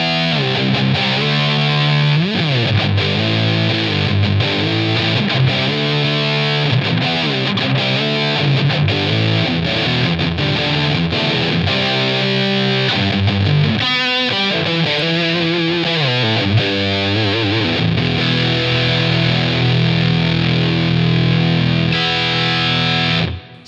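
Heavily distorted electric guitar through a Line 6 Helix running the Ratatouille distortion model, playing chords and riffs continuously and loud with no talking, with a brief thinner passage in the middle.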